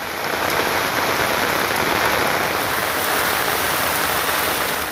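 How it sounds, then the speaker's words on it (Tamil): Heavy rain pours steadily across Nagapattinam district in Tamil Nadu, a dense, continuous hiss of drops on surfaces that stays loud and even throughout with no voices. "நாகை மாவட்டத்தில் பரவலாக பெய்த கனமழையால் பொதுமக்களின் இயல்பு வாழ்க்கை முடங்கியது"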